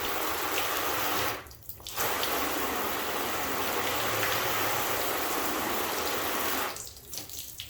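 Water sprays onto a graphene-waxed car panel in a steady, close hiss that breaks off twice into brief near-silence before resuming.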